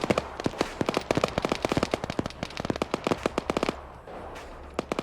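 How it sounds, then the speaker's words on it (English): In an Arma 3 game, machine gun fire crackles in rapid sharp bursts at mid distance, with a brief pause and then a few more scattered shots. "there's a motherfucking machine gunner out there"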